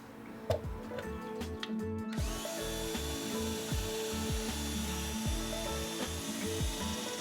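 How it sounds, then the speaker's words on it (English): Drill boring drainage holes into a resin plant container, a steady whirring drone with repeated bursts as the bit bites and stops, close up with no voices. "drill some holes into this guy so we get some good drainage"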